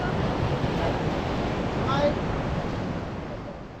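Sea waves at Bheemili beach in Vizag, a golden-sand shore lined with large rocks, heard as a steady broad rumble of surf mixed with wind buffeting the microphone.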